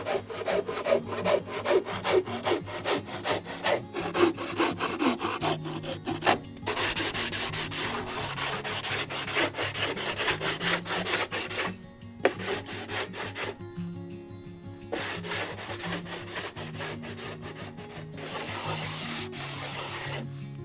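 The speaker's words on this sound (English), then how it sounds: "Before installing the corner, I will cut the bottom of the siding." A handsaw cuts the bottom of cedar siding in rapid rhythmic strokes, loud and close, with brief pauses between bursts of sawing.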